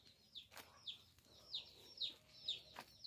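Free-range chickens cluck in a pen with short, repeated calls about every half second, close but soft, over a faint background hiss.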